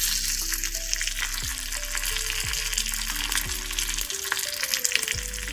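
Mustard seeds, byadgi chili pieces and curry leaves crackle and sizzle in hot oil for a tempering, a steady close frying hiss with a few sharp pops, no voices over it.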